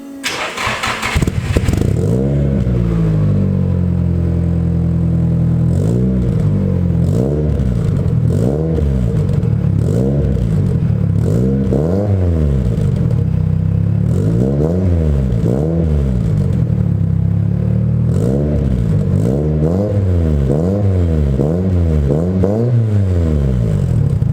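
A cold car engine on threaded coilover suspension cranks, catches and idles loudly up close, then takes a steady series of short revs to about 2000 rpm, each blip rising and falling in a regular rhythm over about twenty seconds.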